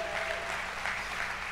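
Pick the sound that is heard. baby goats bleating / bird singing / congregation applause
congregation applause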